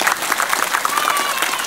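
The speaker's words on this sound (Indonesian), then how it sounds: "tepuk tangan untuk Pian Beratan" A short burst of applause from a crowd at a halal bihalal gathering with a regent, steady clapping with faint voices and a tonal whistle through the middle.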